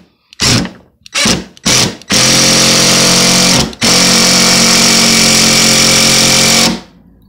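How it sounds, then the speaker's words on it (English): Cheap impact driver sinking deck screws into a 2x4: three short loud hammering bursts, then two long sustained rattling runs separated by a brief pause, very close and harsh, with no talking. "I am driving these screws into a 2x4"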